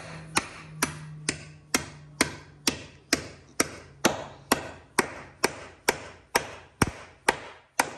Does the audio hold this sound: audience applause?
no